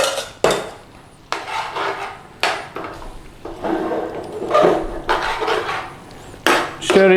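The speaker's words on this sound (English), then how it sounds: "Stir it through." Madras spice paste and base gravy are stirred in a pan, with repeated close knocks and scrapes of a utensil against the pan, irregular strokes and thicker wet shuffling between them, no talking.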